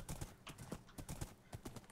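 Horse hooves clip-clop in a steady trot in a Minecraft adventure map, quiet and fairly close, with a soft stray voice underneath.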